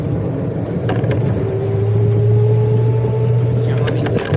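A Decathlon R500E electric cargo bike's motor hums and climbs in pitch as it accelerates under full power, a steady rising whine close by with road noise beneath.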